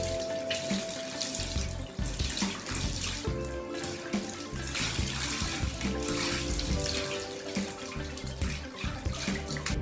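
Water runs steadily from a tap to wash hair weave bundles, a continuous close splashing and gushing with shifting tone as the flow hits the hair and basin; no speech.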